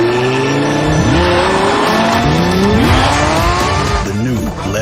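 A 2022 Lamborghini Countach exhaust, loud and close, with rising and falling engine revs and sweeping pitch changes, with a voice speaking over it throughout.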